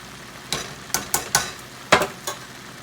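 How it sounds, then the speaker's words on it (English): Food sizzles steadily in a frying pan while a utensil scrapes and taps the pan several times in quick, uneven strokes. "You hear the sizzle. The sizzle means everything to me."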